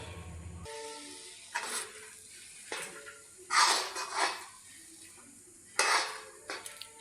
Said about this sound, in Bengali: এইভাবে আমি অল্প আঁচে নাড়তেই থাকবো